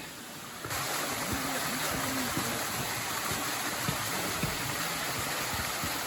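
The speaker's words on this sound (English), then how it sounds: "The Koza waterfall, a good place to relax and cool down in the summer." Koza waterfall on the Ashiya trail in the Rokko mountains: a steady, full rush of falling water that stays loud and even throughout, with a muffled onset in the first moment and some low murmurs beneath.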